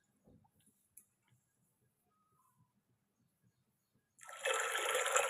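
Water poured into a pot of tamarind rasam in a home kitchen, a quiet stretch of faint clinks and small taps before a loud, steady gushing pour starts near the end and continues.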